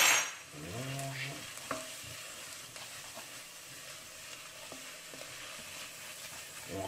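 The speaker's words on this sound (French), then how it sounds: "Je vais rajouter ma belle cuillerée de paprika. Voilà. On mélange." Paprika being stirred into vegetables frying in a pot for green lentil soup, a steady sizzle with spoon scrapes and a few clinks against the pot, close and moderately loud, no voices.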